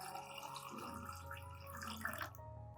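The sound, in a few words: pouring clean water to dilute a turmeric solution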